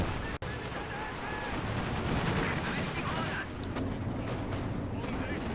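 Panzerwerfer rocket artillery fires in a WWII strategy game tournament match among dense battle noise of booms and gunfire, with a commentator speaking over it.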